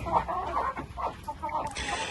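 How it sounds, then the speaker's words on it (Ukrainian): Hens cluck and squawk close by in a busy farmyard on a rainy day, with a steady run of short clucks over background noise. "Там курка заходить"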